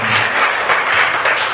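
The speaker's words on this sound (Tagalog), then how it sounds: "malakas na palakpak kay YSDAI" A church congregation claps loudly together at a worship service, a dense steady roar of applause filling the room throughout.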